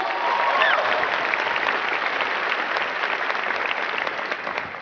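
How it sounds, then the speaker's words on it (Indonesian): Audience at a business seminar applauding, with dense, sustained clapping from a large crowd, loud and even and fading slightly at the end, with no talk over it. "Mohon aplaus untuk PT Duta Network Indonesia."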